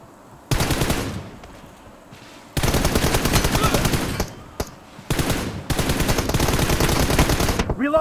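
Automatic rifle fire in PUBG, played on an iPad, comes in three long, loud rattling bursts separated by short quiet gaps.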